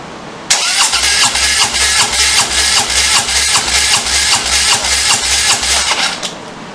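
A Harley-Davidson Softail Slim engine cranks over during a compression test with the clutch in and the throttle open. The starter drones loudly and close for about six seconds, with a steady rhythmic chugging from the compression strokes and no talk.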